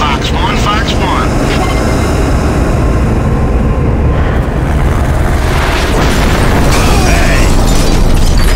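An air strike in the video game Gears of War fills the scene with loud, continuous roaring blasts and jet rumble, booming explosions layered over one another while radio-style voices talk.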